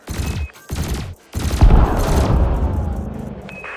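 Ship cannon and laser fire in the Elite Dangerous space combat game: several sharp, loud bursts in quick succession, followed by a sustained roaring barrage of rapid fire with sweeping whine tones.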